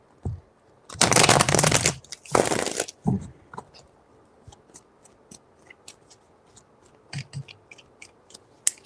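Tarot cards shuffled close up in two loud bursts of riffling, then lighter taps and flicks as the deck is handled, in an otherwise quiet room.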